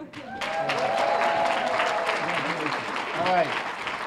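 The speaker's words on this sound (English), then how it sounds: "now a real round of applause for Andrea." An audience at a community health partnership anniversary event gives a loud round of applause, sustained clapping from a crowd in a room with voices talking and calling out over it.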